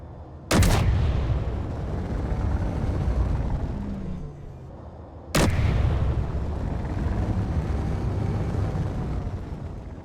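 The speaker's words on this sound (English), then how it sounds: "Let's see if we can shoot some of those off." Assault cannons in the Space Engineers video game fire as two heavy booming blasts several seconds apart, each followed by a long, loud rumbling roar.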